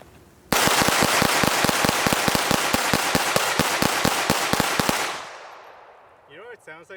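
Two suppressed SIG P322 rimfire pistols fired together outdoors, a rapid dense string of muffled cracks for about four and a half seconds, then fading off as people begin talking.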